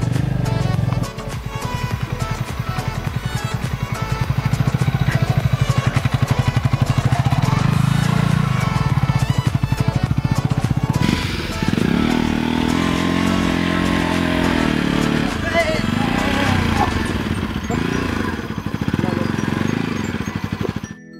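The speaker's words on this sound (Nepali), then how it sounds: "चिप्लो बाटो भएको कारण हाम्रो बाइकलाई ठाउँ ठाउँमा धकेल्नु पनि परिरहेको छ" A motorbike struggling up a slippery, dew-soaked sticky mud uphill road in Kavre, Nepal, its engine droning and revving loudly and continuously throughout, with a voice speaking over it.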